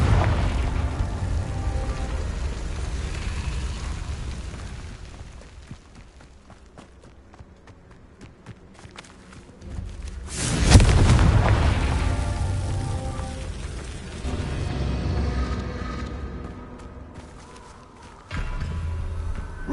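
Confringo fire spell explosions in the video game Hogwarts Legacy: one loud blast bursts out midway and then rumbles away, over a steady bed of footstep-like game ambience and fainter pops.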